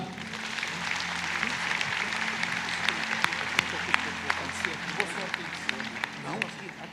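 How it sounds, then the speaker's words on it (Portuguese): A standing church congregation gives a warm round of applause to welcome a pastor, many hands clapping in a continuous roar with sharper individual claps standing out, and voices mixed in. "vamos receber com uma calorosa salva de palmas o pastor Marco Feliciano"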